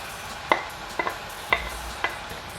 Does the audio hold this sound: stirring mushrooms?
yes